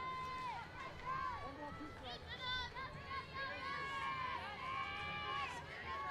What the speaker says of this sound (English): You can hear her teammates cheering for her.